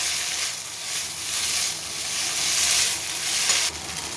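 Egg chicken chow mixed with tomato sauce in a hot pan makes a loud, continuous sizzle and hiss that swells and eases in waves as it is stirred, with no talking.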